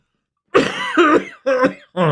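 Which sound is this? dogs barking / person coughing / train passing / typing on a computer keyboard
person coughing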